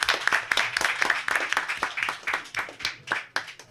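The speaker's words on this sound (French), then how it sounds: "Ah oui, on peut l'applaudir, oui." An audience claps at a live wine event aboard a boat, a dense burst of applause with quick irregular hand claps, moderately loud and close, lasting throughout with no talking.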